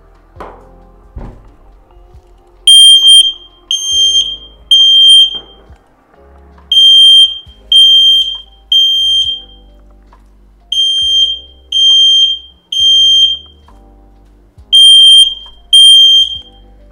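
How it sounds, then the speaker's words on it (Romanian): An X-Sense XS01-WT mini smoke alarm sounds in loud, piercing triple-beep bursts, repeating every few seconds, with soft knocks and handling thumps between them. "Sper să nu dureze foarte mult alarma."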